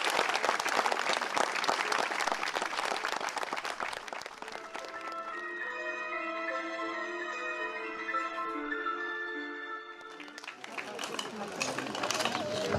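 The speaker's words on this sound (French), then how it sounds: "Aujourd'hui, on est là pour applaudir Michel Barentel." Audience applause at the inauguration of a drawbridge in Cheuge, with a burst of clapping at the start that gives way to a sustained tonal music passage before clapping resumes near the end.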